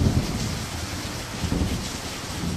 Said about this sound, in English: The Earth's warming would cause more water to evaporate, resulting in heavier rainfall and storms.